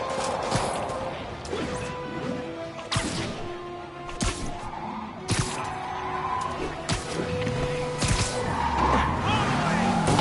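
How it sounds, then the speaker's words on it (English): Spider-Man video game car chase with tires skidding and squealing, loud crashes and thumping impacts, engine drone and game music beneath, with voices talking over it. "All units, we have a vehicle chase in progress."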